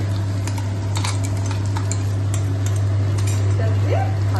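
Ginger garlic paste for mutton polau is stirred in a pot, with a spoon scraping and clinking against the metal over a low steady hum and a faint sizzle.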